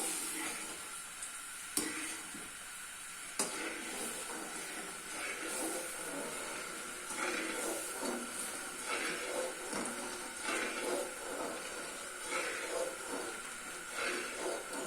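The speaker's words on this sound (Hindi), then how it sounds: "मुसलसल चलाते जाएंगे और हिलाते जाएंगे और फुल फ्लेम पे पकाएंगे सूजी को अच्छी तरह।" Semolina cooking on full flame while being stirred continuously in a pan, with a low hiss and repeated scraping strokes at an irregular rhythm, fairly quiet and close.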